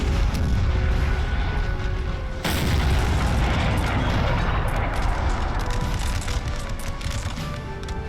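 Cannon artillery fires continuously in the Napoleonic war game NTW3, a dense rumbling barrage of booms that stays loud and heavy throughout, with a fresh surge of blasts partway through.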